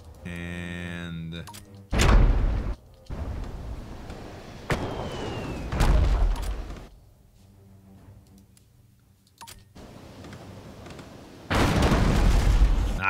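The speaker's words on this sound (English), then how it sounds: "Grape shot again." Grapeshot cannon fire in a naval sailing-ship combat game, several loud separate booming blasts spaced a couple of seconds apart, each with a sharp crack and rumbling decay, between quieter stretches.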